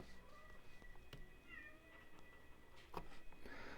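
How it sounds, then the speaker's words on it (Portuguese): A cat meows faintly in the background of a quiet room during an online lecture broadcast, a few soft, scattered calls with low room hum. "Tem um gato querendo participar aqui da nossa transmissão"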